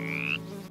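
A hungry cartoon frog gives a single short croak, a quick rising call over a soft steady background tone.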